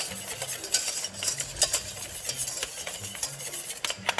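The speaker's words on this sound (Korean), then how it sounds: "한번 이렇게 부르르 끓여줄 때까지 끓여주고요" Tart filling stirred in a pot as it comes to a bubbling boil, with steady scraping and stirring strokes, soft bubbling and occasional utensil clicks against the pot, close and fairly quiet with no talking.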